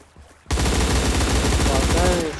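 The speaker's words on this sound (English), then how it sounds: "Wow, that is a powerful gun." A powerful video game gun fires a rapid, loud, continuous burst of automatic fire for about two seconds after a brief quiet lead-in.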